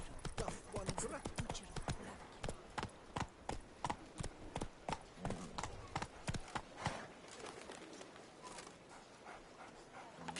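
Hoofbeats of the horse Roach in The Witcher video game, a quick uneven clip-clop of hooves near and moderately loud, mixed with voices talking over it before thinning out toward the end.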